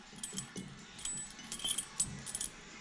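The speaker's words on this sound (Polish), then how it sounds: "a ja tu mam akurat, akurat klucze do garażu" Garage keys jangle and clink together in several quick bursts, close up and fairly quiet, with no talking over them.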